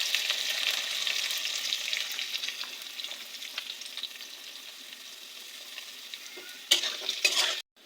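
Onion sizzles in hot oil with bay leaf, cinnamon and clove, a bright, close hiss that settles gradually quieter. A few sharp stirring clatters of utensil on pan come near the end, with no talking.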